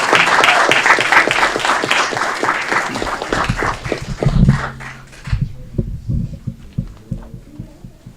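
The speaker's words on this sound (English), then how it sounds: "Big round of applause." An audience at a city committee meeting applauds with dense, loud clapping for about five seconds. It then thins to scattered individual claps that fade out.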